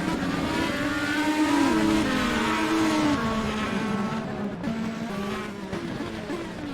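Indy race cars at the Indy Car Brasil race at the Grand Prix of Indianapolis scream past toward turn 1, high engine notes rising and falling with a passing pitch sweep, loud and close, then fading slightly.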